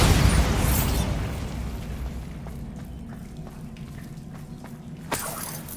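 A Bombarda blasting spell explodes in the video game Hogwarts Legacy with a loud, deep boom at the start that slowly rumbles away. A smaller sharp pop follows near the end over a low ambient bed.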